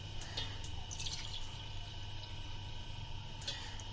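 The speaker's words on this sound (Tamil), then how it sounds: "எந்த கப்பில் எடுத்தோமோ ஸோ அதே கப்பில் அளந்து 3 கப் வாட்டர் வந்து ஆட் பண்ணிக்கிறோம்" Water is poured from a cup into milk for a sweet dish, heard as faint, brief splashes and trickles in a few separate bursts over a quiet room hum.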